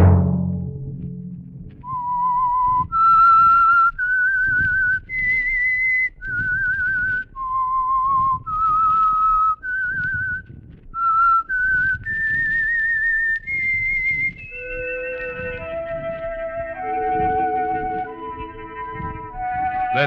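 A clear, solo whistled melody, stepping through a short rising and falling tune with sustained notes, close and fairly loud.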